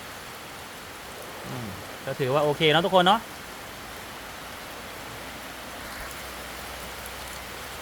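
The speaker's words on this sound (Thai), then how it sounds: "พอทำเสร็จปุ๊บเก็บของเสร็จปุ๊บฝนตกเลย" Heavy rain pours steadily at a house in Thailand, a dense, even hiss throughout, while someone speaks briefly over it partway through.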